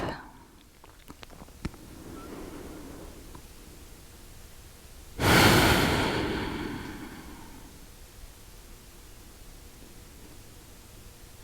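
A slow, deep guided breath during a calm meditation session: one long, soft airy exhale rushes out loudly midway, trailing off into quiet room hiss, with faint rustling before it.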